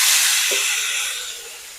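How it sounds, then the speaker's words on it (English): Potatoes sizzle loudly on a hot oiled grill, a steady close hiss that slowly fades a little. "Got that sizzle, that's what you want to hear."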